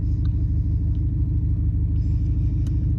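A tuned 2015 Subaru WRX STI, Stage 2+ with external wastegate, drives steadily with a loud, continuous low engine rumble and road drone, cruising without sharp revs.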